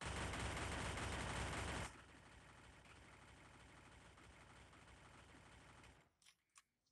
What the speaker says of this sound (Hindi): मतलब हमारा P90 का तो बहुत रेट ऑफ फायर है